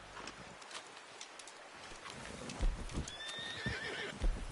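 A video game horse whinnies loudly over the clop of hooves walking nearby, with a few soft thumps and rustles around it.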